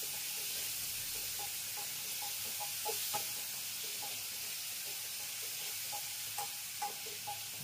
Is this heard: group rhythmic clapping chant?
no